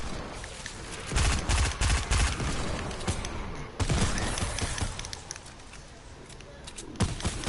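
Gunfire in the video game Fortnite, with a cluster of loud rapid shots early on, another burst near the middle and a single sharp shot late, under a steady game background and talk.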